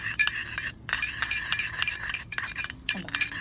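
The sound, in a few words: stirring homemade aloe vera gel cream mixture with a spoon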